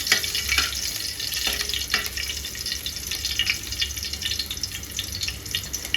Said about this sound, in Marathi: एका पातेल्यात 1 चमचा डालडा टाका. त्यात हिरवी मिरची घाला.